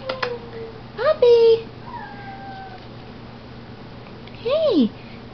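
A red female puppy from a spring litter gives a few short high whines and yelps, close by, with a longer rising-and-falling whimper near the end, amid background noise.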